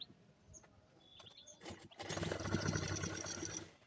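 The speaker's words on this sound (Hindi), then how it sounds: "पैंट पर सिलाई चलाते मशीन चलाते हुए स्टिच कर लेंगे" Sewing machine stitching old pants fabric starts after a few light clicks and handling sounds, then runs in a steady close mechanical whir for about two seconds before slowing to a stop.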